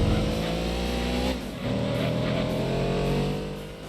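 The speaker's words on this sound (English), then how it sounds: "that new exhaust sounds better than whatever bee the Cougar ate." A Cougar muscle car fitted with a new exhaust roars loudly while racing at Laguna Seca in a video game, holding a raspy engine note with a short dip in revs at a gear change before pulling hard again.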